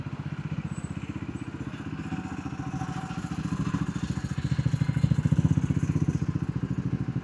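Triumph Scrambler 400X motorcycle riding in third gear, its engine giving a steady rapid thumping pulse that swells slightly louder midway, heard up close with no talking.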